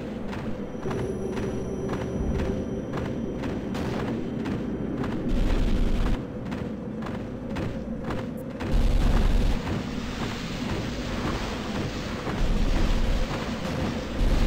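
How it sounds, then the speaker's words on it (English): Deep booming airstrike explosions in Starship Troopers: Terran Ascendancy land in a repeated series, heavy low thuds and rumbles rising above steady battle noise, with no talking. "I have an airstrike."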